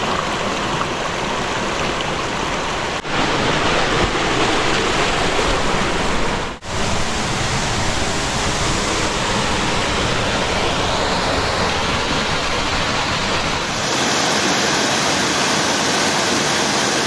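A 15 to 20 foot waterfall in Tahquitz Canyon near Palm Springs roars steadily and close, a dense continuous rush of falling water with a couple of brief dips partway through.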